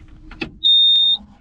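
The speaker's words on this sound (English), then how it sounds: "That ear-piercing beep never gets old." A loud, ear-piercing electronic beep holds one steady high tone for about half a second, following a few short clicks and knocks.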